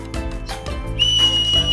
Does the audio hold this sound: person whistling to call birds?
yes